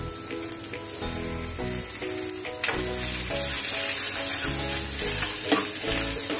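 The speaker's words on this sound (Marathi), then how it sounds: "आपण आलं लसणाची पेस्ट घालूया" Ginger-garlic paste hits sautéed onion in hot oil for a Maharashtrian masala karela bhaji, sizzling loudly and steadily while a spoon scrapes and stirs at regular intervals, with no one talking.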